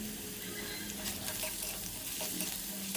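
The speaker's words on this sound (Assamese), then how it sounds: "প্ৰথমে গাজৰখিনি অলপ তেলত ভাজি লৈছোঁ" Oil sizzles quietly in a pan as carrots fry, with a few soft stirring scrapes breaking through the steady crackle.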